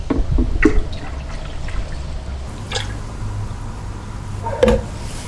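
Cream of mushroom soup pours and splashes into a pot amid clinks and drips, with occasional soft clatter of cookware; the pouring is close and moderately loud.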